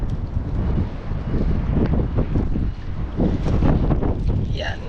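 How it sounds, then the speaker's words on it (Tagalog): Strong wind roars and buffets against the microphone at sea aboard a small fishing boat, a loud, continuous rushing gust with water noise beneath and a voice speaking under it. "Pag yung ganyan, malakas po yung hangin."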